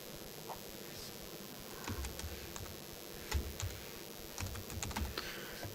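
Fingers tapping a computer keyboard while entering table names in Microsoft Access, with irregular bursts of light clicks, some louder keystrokes and short pauses, heard close with no talking.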